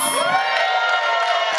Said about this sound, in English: What an easy applause.